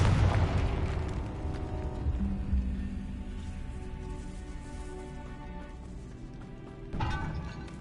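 A Confringo spell blast in Hogwarts Legacy lands as a booming burst that rolls off into a decaying rumble, followed by a second sharper impact near the end; no talk.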